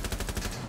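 Rapid gunfire in Rainbow Six Siege, a quick burst of several close, loud shots in a fast rhythm, heard alone without talk.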